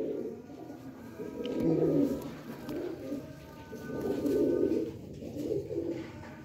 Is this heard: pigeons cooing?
yes